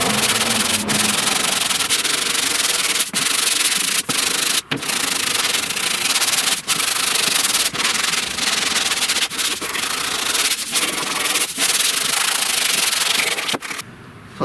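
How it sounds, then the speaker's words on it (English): Steady dry rasping of 80 grit sandpaper worked over body filler on inner door panels and shells of a 1969 Chevrolet C10, loud and close, with brief pauses between strokes and no talk. "let's sand this down. I'm going to sand it with 80 grit."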